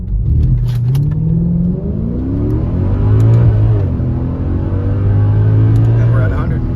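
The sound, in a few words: Mercedes AMG car launch accelerating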